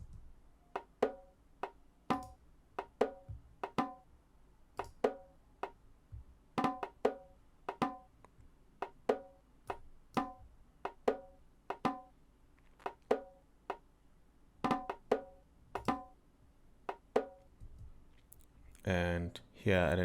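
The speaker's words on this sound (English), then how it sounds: "Now for the second set of drums, just to add on to that, is more of the percussion side of things." Percussion layer from a deep house track built on a vocal sample: a steady loop of short, clicky hits in a repeating groove, fairly quiet, with a brief busier burst near the end.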